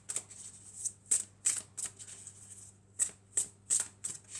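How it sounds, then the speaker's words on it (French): Angel oracle cards being shuffled and drawn, a series of about ten sharp close card slaps and riffles in a loose rhythm with brief gaps, fairly crisp and alone over a faint low hum. "Alors je vais prendre 5 cartes de réponses angéliques."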